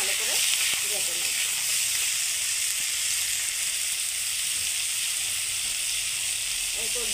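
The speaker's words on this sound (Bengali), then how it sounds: "নুনটা দিয়ে একটু ভালো করে ভেজে নেব।" Brinjal frying with salt in a pan, a loud, steady hiss of sizzling oil that holds evenly from start to finish, with brief faint voice bits near the start and end.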